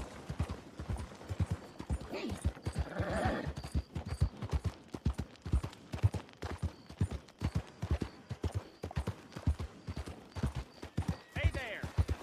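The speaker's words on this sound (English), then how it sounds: "Horse and buggy." Horse hooves clip-clop steadily as a horse and buggy moves through a town in Red Dead Redemption 2, a rhythmic, close trotting beat that runs the whole time, with a faint whinny partway through.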